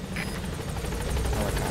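Helicopter arriving in Metal Gear Solid V: The Phantom Pain, a low rotor thump with whining engine tone, steady and close, lasting under two seconds.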